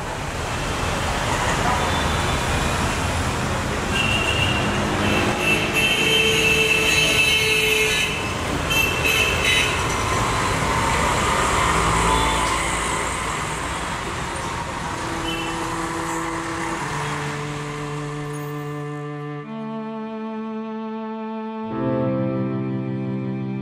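Congested, chaotic street traffic in Bengaluru, India, with horns tooting over a dense, steady roar of engines. The horn blasts grow sharper and more prominent toward the end.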